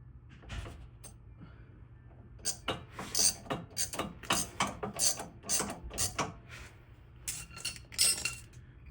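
A socket wrench with a 5/8 inch socket ratchets on the swaybar bolts of a 2014 Ram 1500, a close series of crisp rhythmic clicks and clinks that grows busier toward the end.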